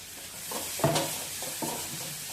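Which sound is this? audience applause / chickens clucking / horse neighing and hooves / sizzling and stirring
sizzling and stirring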